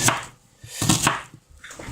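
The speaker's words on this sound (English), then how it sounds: "I'm just chopping all the onions up." Knife chopping onions on a cutting board while preparing Indian chicken curry, several close, loud chops in uneven bursts with short pauses between.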